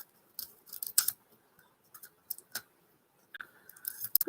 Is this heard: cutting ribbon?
yes